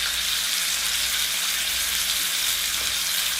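Pork pieces with spices browning in a frying pan, a steady, even sizzle up close with no pauses.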